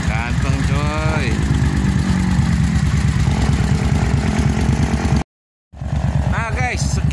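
A Suzuki TL1000S motorcycle engine rumbles at idle close by, with voices talking over it; the sound cuts out briefly, then the engine and talking resume.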